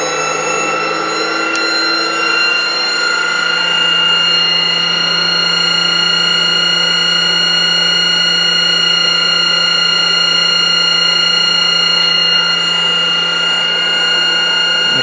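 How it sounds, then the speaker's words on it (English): A stepper motor spinning at high speed, around 1700 RPM, gives off a steady, loud electric whine with layered high tones that holds unchanged for the whole stretch, with no talk over it. "I've never seen a stepper motor going that quick before"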